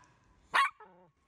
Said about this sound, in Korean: 그리고 밖에서 맹렬하게 두부가 짖고 있어